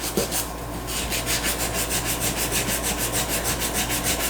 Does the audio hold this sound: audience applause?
no